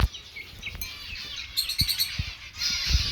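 Small amadina finches chirp and tweet in short bursts, some quick rapid trills, close by over a quiet background.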